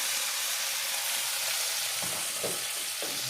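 Chickpeas and egg stirred in a pan for a boat-style chana dish, giving a steady hiss of frying with a few soft scraping stirs near the end, close and continuous.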